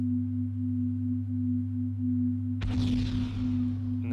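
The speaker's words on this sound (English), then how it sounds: "I sat there for about 10 minutes listening to this music, and it changes every few seconds. Tones go up and down." Electronic i-doser tones played as music meant to simulate recreational drug use: a steady low hum of layered tones, then a louder burst of shifting, sweeping tones entering partway through, with no talking.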